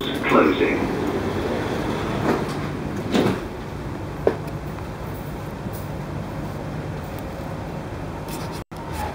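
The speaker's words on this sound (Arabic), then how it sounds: "Doors closing." Dubai Metro train doors slide shut at an airport station, with a few short thuds and clicks over a continuous low rumble of the carriage and a voice announcement early on.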